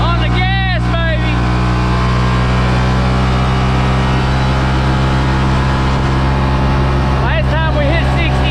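A Yamaha Rmax 1000 UTV with an Alba tune and exhaust drones steadily under acceleration, a loud continuous engine hum with brief whining tones near the start and end.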